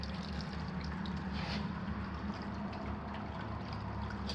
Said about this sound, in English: you can hear the water going in it.